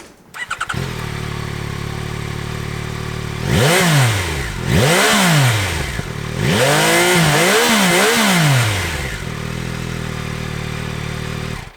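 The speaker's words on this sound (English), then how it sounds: "Typical for an inline triple, but with a nice bassy note, and also a bit of a rasp when you give it some throttle" A 2025 Yamaha R9 inline-triple motorcycle engine catches and settles into a loud, steady idle, then climbs through three or four sharp throttle blips with rising and falling pitch before returning to idle.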